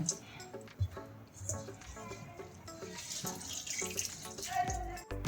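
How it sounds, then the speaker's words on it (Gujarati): Salted grated raw mango for mango chunda is squeezed by hand to press out its water, giving close, irregular dribbles and splashes of liquid with small clicks and rustles. "આમ આમ દબાવીને બધું જ પાણી આમ કાઢી લેવાનું છે"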